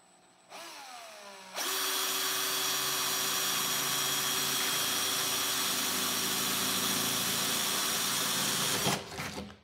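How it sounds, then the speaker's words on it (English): A power drill spins up and whines steadily at high speed for several seconds, then winds down abruptly. "I'm gonna go ahead and drill them."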